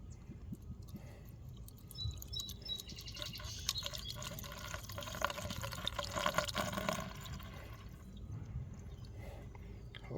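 Motor Purr Tune-Up additive poured into an engine, a continuous liquid trickle and glugging lasting several seconds, close but soft, with no voices.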